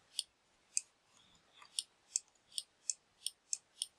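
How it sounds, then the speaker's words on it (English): A 3D printer's X-axis end stop switch clicks repeatedly during assembly, about nine sharp, bright clicks at a fairly even rhythm, close and clear over a quiet background. "that end stop and makes a nice clicking noise, it's a great success"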